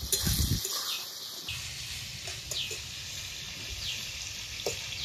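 Spices sauté in a pan for a spicy taro curry with fish, producing a soft continuous sizzle and occasional stirring scrapes, close but moderately quiet, after a brief louder clatter at the start.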